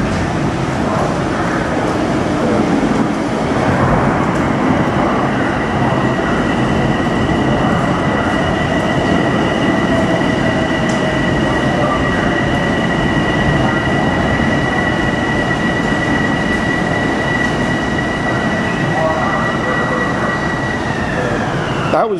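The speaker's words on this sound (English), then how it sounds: "There's a train passing through in the other direction here." A train rumbles past steadily for the whole stretch, with a sustained metallic whine of wheels on rails and a faint voice briefly underneath, in Mineola during a severe thunderstorm with pea-sized hail.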